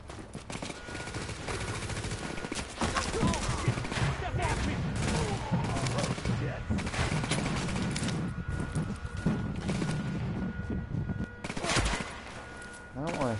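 Gunfire in the video game Tom Clancy's The Division, dense bursts of rapid automatic shots and scattered booms through much of the stretch, loud and continuous.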